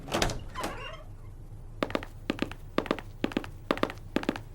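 Door opening as a sound effect in a Hindi horror audio drama, two thuds at the start followed by a run of close, evenly spaced footsteps.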